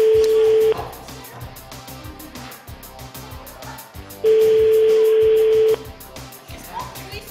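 A telephone ringback tone sounds during a call: two long steady tone bursts, one at the start and another a few seconds later, with quieter background music in between.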